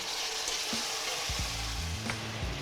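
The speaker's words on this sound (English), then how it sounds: "So I'm gonna add in my onions and garlic. I'm gonna drop the meat in." Pork belly, onions and garlic frying in a pan, giving a steady close sizzle with some low clunks of food and the pan.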